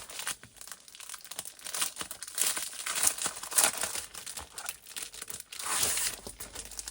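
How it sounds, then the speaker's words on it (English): Paper packaging crinkles and tears as it is opened, a busy continuous rustle of crackling plastic-like wrap with louder bursts throughout, close up and without talk. "let's actually open these because I have not yet. So sorry in advance. We're gonna do some crinkling."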